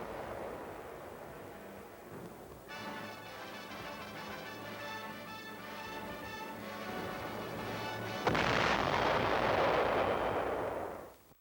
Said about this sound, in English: The snow muffles the sound of the big guns.